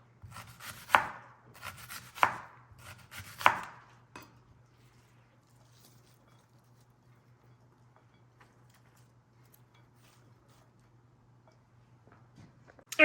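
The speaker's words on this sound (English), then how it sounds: "slicing my onions." Three crisp knife chops slice through onions on a cutting board in the first few seconds, spaced about a second apart. A long near-silent stretch with a faint steady hum follows.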